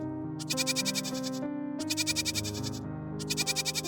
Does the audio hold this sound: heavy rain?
no